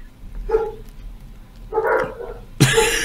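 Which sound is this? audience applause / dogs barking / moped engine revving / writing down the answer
dogs barking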